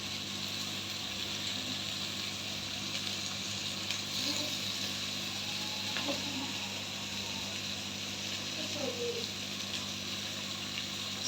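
Sliced onions and fenugreek leaves deep-frying in oil in a pan for menthya bath, giving a steady, even sizzle with a few faint stirring clinks and soft scrapes, and no talking over it.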